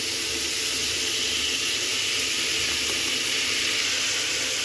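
Chopped vegetables sautéing in a hot pan for vegetable brinji rice, a steady loud sizzling hiss that carries on without pause.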